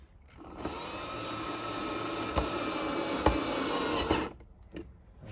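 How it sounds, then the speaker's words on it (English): A power drill drives a screw into wood for assemblage sculpture work, a loud continuous motor whine lasting about four seconds with a couple of brief catches before it stops. "Now I'm going to grab my other drill"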